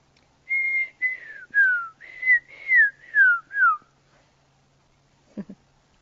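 A crowned lapwing gives about seven loud, slurred whistled calls, each rising then falling, in quick succession, followed by silence and a brief faint knock.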